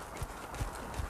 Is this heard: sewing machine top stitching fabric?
no